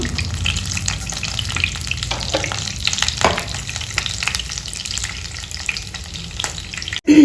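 Mustard seeds and whole spices such as cloves, cardamom and peppercorns crackle and sizzle in hot oil for a green chilli pulao, a steady close frying hiss with occasional pops and stirring.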